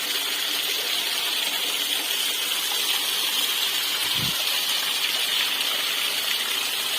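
Water from a hill stream rushes over big stones in a steady, continuous broadband wash that stays close and even throughout, with a brief low thump partway through.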